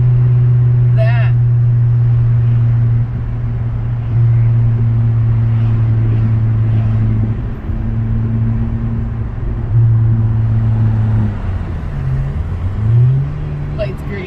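A 2019 Honda Civic Sport with its muffler deleted drones loudly up close with a deep steady exhaust note, shifting pitch slightly as it idles and moves off, with brief voices in the background.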